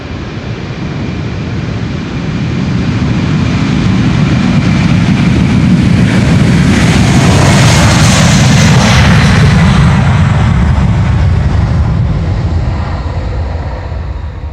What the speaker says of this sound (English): Can't believe that this is the third departure of a 747 in the show already.